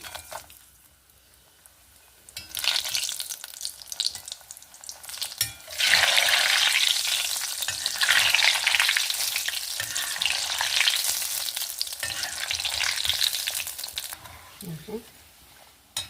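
Sun-dried bitter gourd sandige dropped into hot oil, a soft start building into a loud, sustained bubbling sizzle with stirring, then easing off at the end; a voice talks in places.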